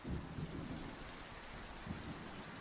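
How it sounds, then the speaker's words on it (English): Steady rain pattering on a tent, a dense continuous hiss with soft low thumps of drops hitting the fabric close by, no voices. "I awoke to the sound of rain pattering against my tent."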